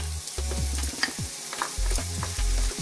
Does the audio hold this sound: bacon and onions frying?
yes